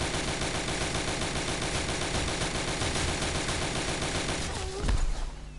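Automatic turret fire in a Roblox multiplayer game: a dense, continuous rattle of rapid gunshots sustained for several seconds, loud and close, cutting off abruptly near the end with a brief louder burst.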